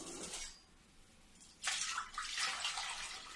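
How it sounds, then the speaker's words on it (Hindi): Tamarind, jaggery and sugar water is poured from a vessel into a bowl, a steady close splashing stream that starts partway through and keeps running to the end. "ये जो हमारे इमली गुड़ और चीनी के पानी है एक कटोरा में रख दूंगी"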